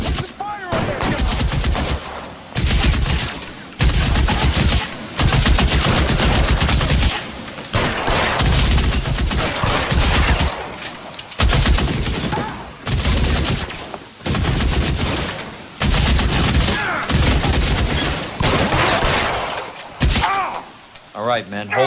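Bursts of heavy gunfire from the L.A. Noire video game, loud and close, with rapid volleys repeating in waves through the whole stretch under game dialogue and chatter.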